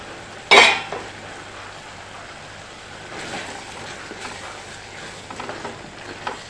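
Lid lifted off a pot of squid roast with one sharp clank, followed by a pause and then soft, irregular scraping and stirring in the pan, close and quiet, no speech.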